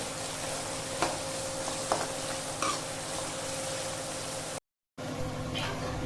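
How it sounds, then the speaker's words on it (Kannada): Sliced onions sizzle in hot oil while being fried for paneer biryani, a steady close hiss broken by a few scraping stirs of a spoon and one brief dropout. "ಸ್ವಲ್ಪ ಈರುಳ್ಳಿ ಎತ್ತಿಕ್ತಾ ಇದ್ದೀನಿ"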